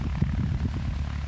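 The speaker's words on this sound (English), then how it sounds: "There's actually a plane getting ready to take off." An airplane preparing for takeoff at Frankfurt Airport: a steady low engine rumble with a faint propeller-like throb, distant and continuous throughout, with no talk.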